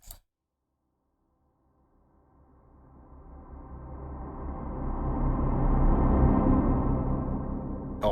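A reverse reverb effect pitched down one octave swells from silence into a dark, low rumbling wash that builds steadily louder and then cuts off abruptly.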